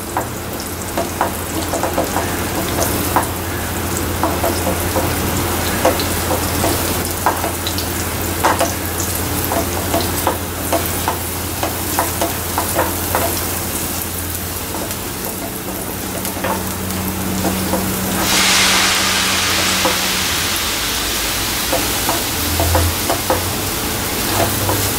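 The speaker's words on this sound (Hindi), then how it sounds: "अभी इसे हमें अच्छी तरह भूनना है।" Chana dal paste frying and being stirred in a pan, with a steady sizzle and bursts of scraping throughout, loud and close, with no talk.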